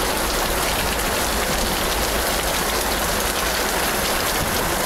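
Heavy rain pours steadily outdoors at a conifer nursery, a dense, loud, unbroken hiss of drops with no voices.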